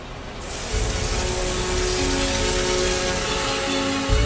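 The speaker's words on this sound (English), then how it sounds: "He then lowered the temperature of that air with a fine spray of cold water." A loud, steady hiss of fine water spray starts almost at once and runs unbroken to the end, with no voices.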